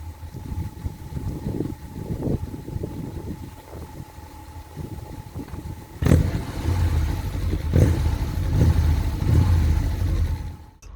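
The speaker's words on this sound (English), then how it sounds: "I'm going to switch off this microphone and let you hear it from 15 feet away. I'll go and give it a rev." A VW T3 camper van engine idles at a distance of about fifteen feet, then is revved in a couple of swells before settling back to a steady rumble.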